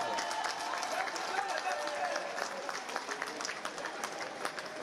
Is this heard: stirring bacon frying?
no